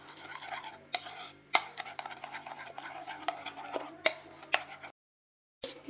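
Chaat masala, a pinch of salt and chili flakes are mixed together in a bowl for chicken pakora, with soft, scattered clicks and taps of a spoon against the bowl, then a brief silence before one last clink.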